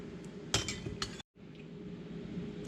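A metal ladle clinks against a glass jar while tomato sauce is ladled in. A few bright taps sound close, then a short silence and quieter scraping.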